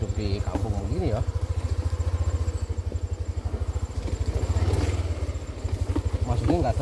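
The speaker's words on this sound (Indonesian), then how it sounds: "gak sering dengar suara knalpot" A Yamaha Aerox scooter engine putters with a steady low pulsing exhaust note, close by, while people talk over it on a hilly village road.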